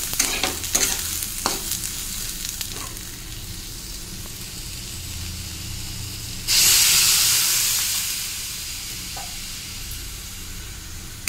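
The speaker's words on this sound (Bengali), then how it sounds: "এই যে আলুটা লাল লাল করে ভাজা হয়ে গেছে, এবার আমি জল দিয়ে দেবো।" Potatoes fried until reddish are stirred in a hot pan with steady scraping and sizzling, then a sudden loud hiss bursts up for a couple of seconds and slowly fades.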